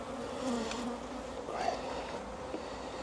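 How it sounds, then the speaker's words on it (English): A dense, steady buzzing of many honeybees in a crowded open hive, close and continuous, with a few louder swells as insects pass near. "There's lots of bees in this hive right now, a lot."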